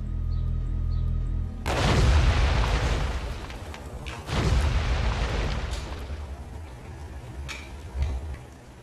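An explosive charge detonates under meat in a water-filled plastic bin, giving a sudden loud roaring blast that rolls and decays, then a second heavy burst and a lingering rumble as debris and water settle.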